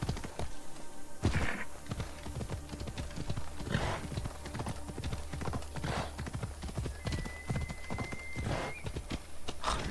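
Horse hooves clip-clopping steadily in a video game, a close, even rhythm of hoof strikes throughout, with a few louder thumps and a faint whinny-like tone near the end.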